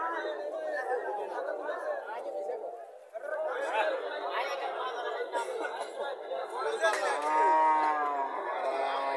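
A Friesian heifer calf gives long, drawn-out moos close by, with people chattering nearby on a livestock farm.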